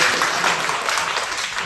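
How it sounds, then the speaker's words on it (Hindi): A classroom of children breaks into brief, dense clapping, a quick burst of many hands at close range. "बजाओ भाई शोक ताली, बहुत बढ़िया।"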